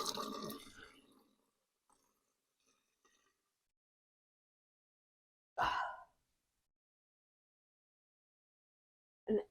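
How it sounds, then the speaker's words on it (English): Soft splashing and dripping sounds arise as a face is rinsed with water, a brief burst at the start followed by two short, separate splashes in an otherwise quiet room. "All right, wash it off."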